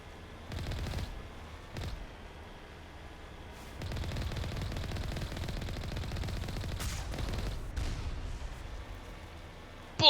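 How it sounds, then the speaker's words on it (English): Enemy gunfire in Mass Effect cracks out in short bursts, then turns into a sustained volley of shots mixed with game noise, followed by a few scattered reports. "Something was shooting me over here"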